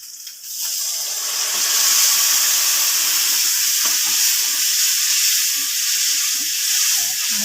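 Gravy for a Kathiyawadi-style raw mango curry sizzles steadily in a pan after water goes in, a broad continuous hiss with small bubbling pops and occasional stirring knocks, close and fairly loud.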